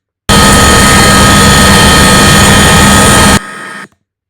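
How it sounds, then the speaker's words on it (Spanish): Helicopter rotor and turbine noise during an air medical transfer, a loud steady roar that cuts off abruptly near the end, leaving a fainter tail. "Es un aerotraslado en un helicóptero"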